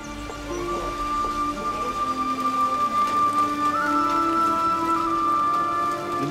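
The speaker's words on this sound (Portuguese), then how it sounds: "Chegou a chuva." Steady rain falls in a Croatian town during spring, a soft continuous patter lasting several seconds with faint tonal background sounds and no talking.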